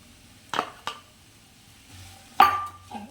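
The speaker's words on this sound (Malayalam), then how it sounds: "ഇനി നന്നായിട്ട് ഇളക്കുന്നു." A utensil stirs capsicum and spring onion greens in a pan, giving a few sparse, sharp clinks and scrapes against the metal, separated by quiet gaps.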